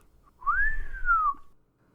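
A person whistles a single smooth, rising-then-falling note lasting about a second, imitating a whistle, clear and close against near silence.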